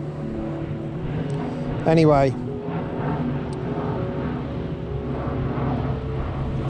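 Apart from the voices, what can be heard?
airplane flying overhead above the clouds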